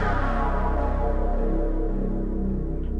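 FM Wander lead preset on an Arturia Synclavier-V software synthesizer, a sustained loud tonal synth note with dense harmonic layers and slowly shifting timbre, played alone for about three seconds.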